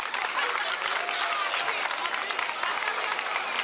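A large crowd at a high school visit by Khuzani bursts into dense, steady applause, many hands clapping loudly and continuously for the whole stretch.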